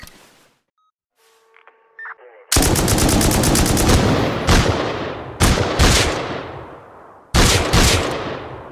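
Thompson submachine gun bursts in the video game Rust come after a few faint electronic beeps: several loud, rapid automatic volleys fire in close succession, each clattering burst cutting off sharply before the next.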